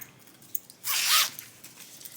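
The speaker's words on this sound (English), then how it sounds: "All right, I'm just adding my zipper." A zipper is handled while being added to a sewn tote bag, giving one short, close rasping pull of about half a second against a quiet room.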